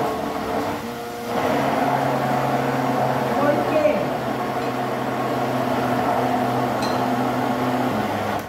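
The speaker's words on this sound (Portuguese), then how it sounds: "esse liquidificador, ele não é muito potente, então ele, ele enrosca" A weak blender motor whirs steadily at a low drone for several seconds, with faint mechanical rattling underneath as it struggles with a thick mixture.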